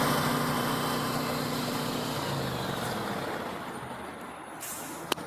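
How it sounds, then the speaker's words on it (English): A jetting truck's engine is shut off: a steady low idling rumble with tonal drone gradually fades and winds down, ending in a short sharp click, with no one talking. "Next step, let's kill the engine."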